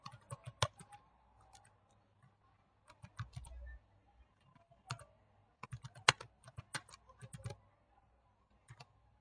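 Keys on a computer keyboard clack in short irregular bursts with pauses between them, close and fairly quiet in an otherwise silent room, as text is typed into MS Office.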